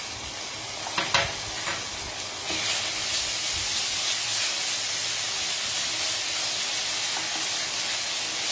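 Ginger and chili paste hitting a hot pan, a few sharp crackles followed by a loud, continuous bright sizzle and hiss that holds steady throughout.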